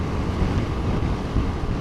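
Heavy, continuous wind roar buffeting a rider on a Royal Enfield Guerrilla 450 naked bike at 70 mph on a motorway, a loud low rumble with uneven gusty swells and no break.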